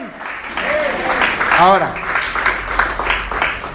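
A church congregation applauds during a sermon, a crowd of hands clapping steadily underneath a preacher's voice that talks over it throughout.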